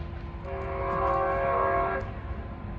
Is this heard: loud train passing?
yes